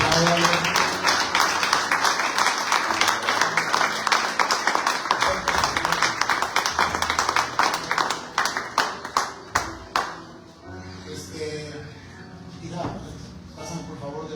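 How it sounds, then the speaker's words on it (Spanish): A church congregation claps together in a dense, steady burst that thins out and fades after about ten seconds, followed by quieter shuffling and murmured voices. "Si quiere aplaudir, apláudalo."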